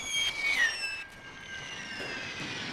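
Artillery fire in the WW1 Total War siege battle game, heard as whistling shells with falling tones over a faint rumbling background and soft distant bursts.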